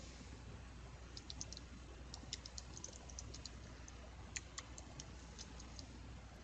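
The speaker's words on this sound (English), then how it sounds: "I can type in my title." Soft, quick key clicks from typing a title on a computer keyboard, scattered in short runs over a steady background hiss, with no voices.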